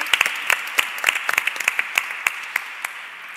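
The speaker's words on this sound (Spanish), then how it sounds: "la vamos a dar, sí, un fuerte aplauso en su memoria" Sparse, scattered clapping from a small audience at a library day event honouring María Moliner, a handful of distinct sharp claps in an uneven rhythm that never builds into full applause.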